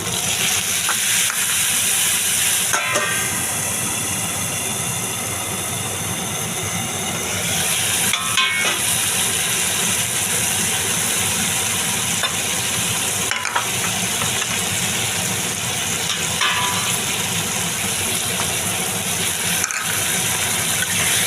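Onion paste sautéing in a pan for a mourala fish curry, a sustained close frying hiss broken by periodic spatula scrapes and clanks against the pan, no voices.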